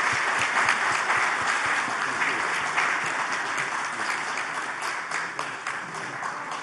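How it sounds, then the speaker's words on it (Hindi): Steady applause from an audience, dense clapping that fades slightly toward the end, with no talk over it. "बहुत तालियां जी, बहुत तालियां।"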